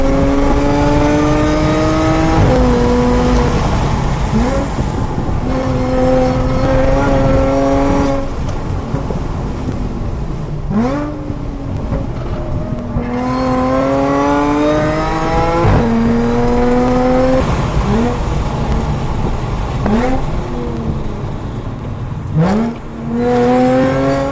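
Engine of a 2010 Audi B8 S4 revving loudly and repeatedly, climbing and dropping in pitch through several close, sustained rev sweeps with no talking.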